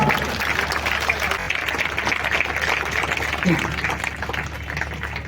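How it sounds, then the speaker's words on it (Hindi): A crowd at a Vijayadashami event in Delhi applauds in loud, continuous clapping, with voices and hall noise running underneath throughout. "तालियां जोरदार बजाइए"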